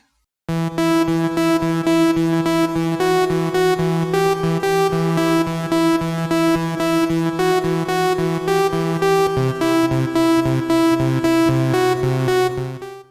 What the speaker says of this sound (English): we've got quite a nice trance lead, and that's just the basic default sound there, just a saw wave